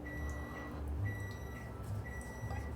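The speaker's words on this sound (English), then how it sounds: "There's the microwave beeping" A few faint electronic beeps repeat at intervals over a low background hum, like a microwave signaling it has finished.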